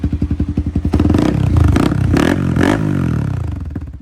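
A loud Honda Grom motorcycle with a swapped 349 engine chugs in a rapid, uneven idle at close range, briefly blipping up in revs before settling back into its lumpy beat.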